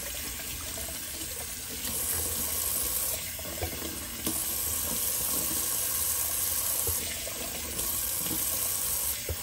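Tap water runs steadily into a bathroom sink during a wet shave, a continuous close splashing stream with a few small clinks and shifts in the flow.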